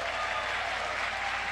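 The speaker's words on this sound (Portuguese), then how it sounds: "uma salva de palmas para todos eles" A congress audience applauds its speakers with steady, dense clapping that holds at an even level throughout a brief stretch.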